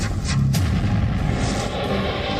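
Artillery guns and powerful rocket launchers fire at an Indian military deployment along the LAC, a loud, sustained rumbling roar punctuated by a couple of sharp blasts near the start.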